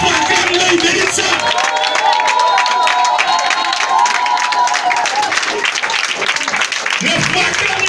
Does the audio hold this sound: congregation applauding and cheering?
yes